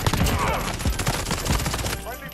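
Rapid bursts of gunfire from a gold P90 submachine gun in Modern Warfare, loud and close, with sharp repeated shots over busy game noise that thins out near the end.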